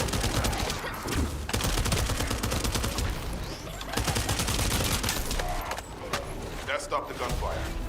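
Dense, continuous gunfire from The First Descendant video game, rapid overlapping shots and bursts at steady loudness, with brief lulls near the two-second and six-second marks, under talk.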